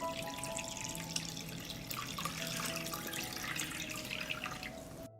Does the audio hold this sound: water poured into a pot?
yes